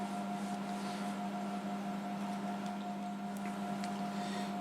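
An Emco PC50 CNC lathe runs back to its datum point with a steady motor hum and fine faint ticks, close and constant from start to finish.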